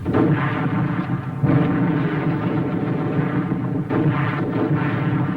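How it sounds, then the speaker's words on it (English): Mortar fire in a war drama, a loud, dense rumble of booming blasts that swells and dips over several seconds, with no speech. "Mortar."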